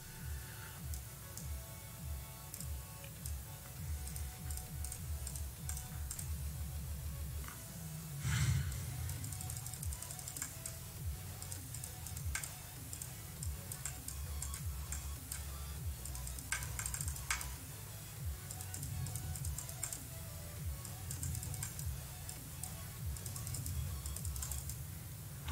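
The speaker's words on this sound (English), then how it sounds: "Sure you can hear me clicking right now." Rapid, faint mouse or key clicks from someone playing Geometry Dash, irregular bursts of sharp ticks over steady game music.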